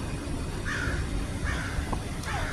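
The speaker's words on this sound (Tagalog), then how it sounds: "Ang mga uwak." Crows caw a few times at a distance in San Francisco, three short harsh calls spaced about a second apart over a steady outdoor rumble of wind and traffic.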